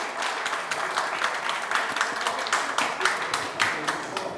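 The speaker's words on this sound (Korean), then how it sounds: "박수 부탁드리겠습니다." At a People Power Party rally in Daegu and Gyeongbuk, a crowd applauds in a dense, lively burst of clapping that stays loud and steady, with some voices mixed in.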